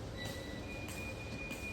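Steady rumble and wheel whine from a train inside a Delhi metro station, a continuous low roar with faint high squeals, heard alone at moderate distance.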